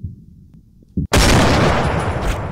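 A sniper rifle shot fires in the video game Hunting Sniper, a sudden loud blast that cuts through a quiet low background and rings out in a long, dense, full-bodied roar filling the rest of the moment.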